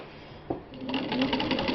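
Vintage Singer 15-91 straight-stitch sewing machine running close up as it stitches fabric, a steady rapid whirring hum with rhythmic needle clatter that starts after a brief pause and builds to full speed.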